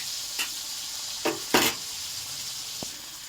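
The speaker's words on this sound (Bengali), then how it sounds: "আমি এক এক করে মাছ ভাজবো।" Koi fish fry in hot oil in a pan with a constant close hiss, broken by several sharp crackling bursts as pieces are stirred, plus a light metallic clink.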